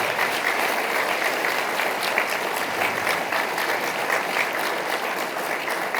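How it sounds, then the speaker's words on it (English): Dense, steady applause from a large audience at a chamber of commerce business awards ceremony, honouring recipient organizations; loud and continuous without pause, with no speech over it. "So could everyone join and give them a round of applause?"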